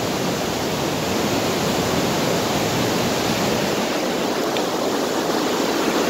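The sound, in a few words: Montmorency Falls waterfall rushing, Quebec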